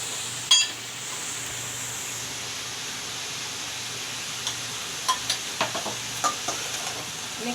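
Vegetables being stirred and fried with turmeric powder in a pan, a steady low sizzle with a handful of sharp utensil scrapes and taps toward the end, close and alone.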